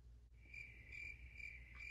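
A cricket chirp from the sound feature of the children's picture book The Very Quiet Cricket: a thin, high trill repeating in about four steady pulses, alone over a low hum.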